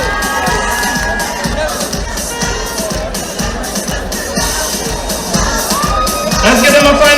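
A large outdoor crowd at a political public meeting in San Fernando cheers and whoops for winning local government candidates, loud and continuous, with shouts rising above the din and swelling toward the end.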